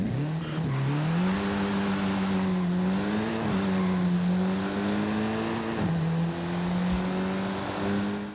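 A Ford Focus ST with a 2.6 litre engine drives in Forza Horizon 5, its engine droning steadily with rising and falling revs and brief gear-change dips, loud and close.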